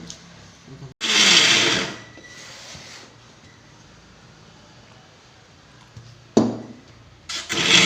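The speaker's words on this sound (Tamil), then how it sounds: "அதுக்கும் தேங்காய் அரைக்கணும் தேங்காய் சீரகம் போட்டு" A kitchen mixer grinder grinds coconut with cumin in short, loud whirring bursts, one long pulse followed later by two briefer ones, with quiet gaps between.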